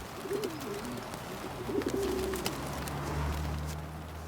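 City pigeons in London cooing, a soft low burbling call repeated a few times over a steady outdoor hiss, with the birds fairly close.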